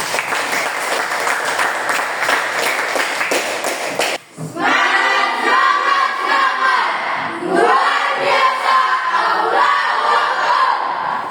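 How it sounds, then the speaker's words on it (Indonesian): Students in a classroom burst into loud applause and cheering, with a short break partway through before the clapping and shouting pick up again, dense and close throughout. "Tepuk tangan."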